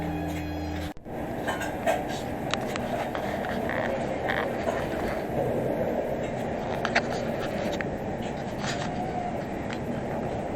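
A moving passenger train on the Howrah to NJP route, heard from inside as a steady rumbling ride with scattered clicks and knocks, after a sharp jolt near the start.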